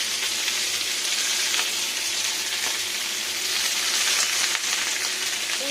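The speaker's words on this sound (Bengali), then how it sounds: "এবার এখানে এই তেলটাতে দিয়ে নেবো সজনে ডাঁটা আর পুঁই ডাঁটা আর পুঁই শাক।" Drumstick stalks, Malabar spinach stalks and Malabar spinach leaves frying in oil, a loud, even crackling sizzle that holds steady from start to finish, close by.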